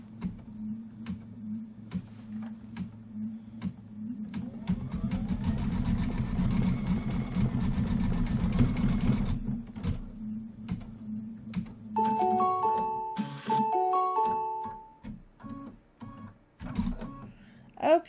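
An embroidery sewing machine stitches with white thread, running a steady mechanical whir with rapid needle pulses for several seconds, followed by a series of short electronic beeps and quiet clicks.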